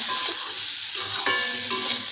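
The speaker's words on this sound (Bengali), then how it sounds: "এটা এই যে ভালো করে ভেজে নিলাম এটা ভাজাটা প্রায় হয়ে গেছে" Black cumin seeds and garlic frying in a pan, with a steady, close sizzle and a few sharp scraping clicks from stirring.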